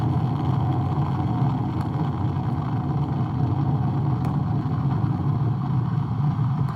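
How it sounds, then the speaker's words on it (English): A continuous deep, rumbling roar of four RS-25 core-stage engines and two solid rocket boosters at launch, heavy and sustained without a break, with faint crackle riding on top. "All 4 RS-25 engines on the core stage and 2 solid rocket boosters now propelling the vehicle"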